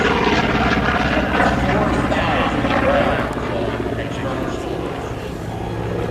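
A Corsair warbird, a large radial-engine propeller fighter, performs in a night airshow with a half roll, its loud droning engine roar steady throughout while an announcer talks over it.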